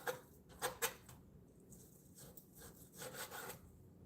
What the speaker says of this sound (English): I need to sharpen this knife.